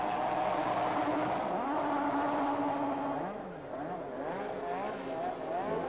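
McLaren Formula 1 cars lead the field at Monza in 1988, a dense layered engine drone with wavering, sliding pitches under continuous commentary.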